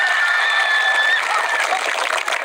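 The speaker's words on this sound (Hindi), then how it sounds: "और अब एक ताली अपने लिए बजाएंगे।" Applause from the audience at an Indian school stage event, dense and steady clapping that fills the whole few seconds at loud volume.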